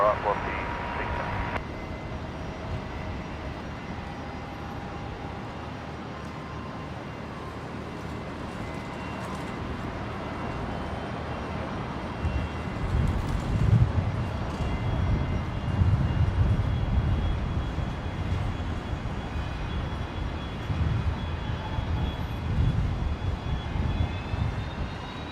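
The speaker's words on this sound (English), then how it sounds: "The Dash 8 just arrived back from Longreach" Qantas Link Dash 8 turboprop arriving at Brisbane Airport, a steady distant engine drone with rising rumble midway, under radio and voice chatter throughout.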